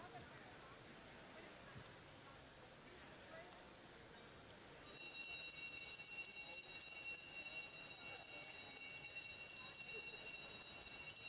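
At a US Masters short course nationals pool during a 500 freestyle heat, a lap bell starts ringing partway through and keeps up a bright, sustained metallic clang over the hum of the natatorium, with voices nearby.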